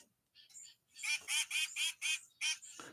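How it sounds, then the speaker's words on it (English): Several birds call close to the microphone in a rapid run of bright, squawking bursts, roughly six loud calls in a row after a couple of softer chirps, with no other sound beneath them. "like these bird sounds. I'm turning them down a little bit. They're a little closer to the mic."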